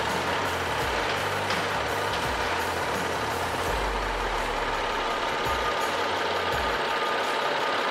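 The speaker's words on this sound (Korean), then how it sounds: "엔진 소리 일정하고 좋습니다." A BMW 5 Series GT F07 xDrive engine runs steadily with the hood open, giving a loud, constant droning hum with a low rumble underneath and no speech.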